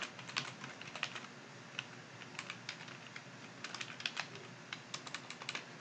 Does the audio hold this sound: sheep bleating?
no